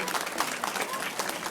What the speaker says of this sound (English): So I think our trainers and whales deserve a round of applause,